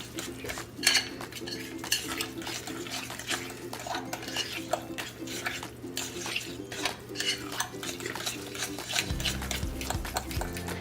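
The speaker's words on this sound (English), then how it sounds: "some red peppers, red chili, and some paprika into the eggplant and mix it nicely." A spoon works red chili, red peppers and paprika into mashed roasted eggplant for baingan bharta, giving repeated soft scraping and clinking strokes against the dish over a low steady background hum.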